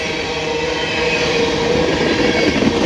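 A loaded CSX ethanol freight train rolls west along the old B&O mainline, a steady, loud rumble and rush of rail cars passing close by without pause, with no voices.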